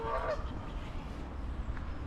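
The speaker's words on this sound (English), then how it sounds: "Can you hear geese?" Geese honk a few times in the distance, coarse calls over a low outdoor rumble.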